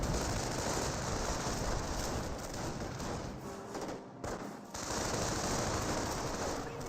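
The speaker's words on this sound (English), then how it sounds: "And an MG42." Sustained automatic fire from an MG42 machine gun in the video game Company of Heroes, a dense continuous rattle of bursts with a short break near the middle.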